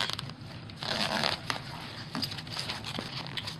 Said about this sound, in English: It does have the finger grabs on the end of the string on the pull cords for your zippers.